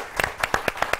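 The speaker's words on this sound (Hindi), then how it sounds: "एक बिग राउंड ऑफ अपलॉज गूंजती हुई तालियों के साथ मोइन साहब का" A studio audience on a live iftar television broadcast claps in a sparse, steady rhythm of about half a dozen distinct, fairly close hand claps, with no voices over them.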